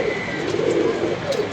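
Pigeons coo softly over a murmur of low background noise, the calls faint and blended rather than distinct, with no speech heard.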